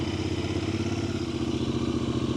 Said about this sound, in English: I'll give you a quick little start up of what the bike sounds like.